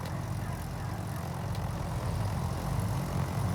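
The right engine of a Piper PA-44 light twin runs with a loud, low, rumbling propeller drone, heard close and steady throughout.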